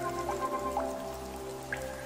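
A rain shower falls in a forest where hummingbirds feed, a soft, steady patter with a few distinct droplet hits, heard alone without speech.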